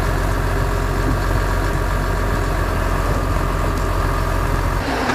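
A steady, low engine rumble idles continuously and evenly throughout, close by and fairly loud, with no voices over it.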